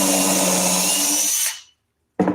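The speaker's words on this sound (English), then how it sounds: "So the first hole I'm drilling through the lid and into the base is the correct diameter for the threaded part of the screw." A power drill bores through a wooden lid into the base with a loud, steady high whine for about a second and a half, then cuts off; a brief burst restarts just before the end.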